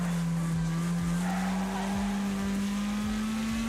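Racing car engines in the Wreckfest video game hum steadily and climb in pitch, with repeated tyre skids and scrapes cutting through, close and continuous.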